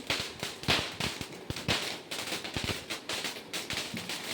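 Firecrackers burst during a Vishu festival celebration, a rapid, irregular string of sharp cracks and pops going off one after another, loud and close, with no voices.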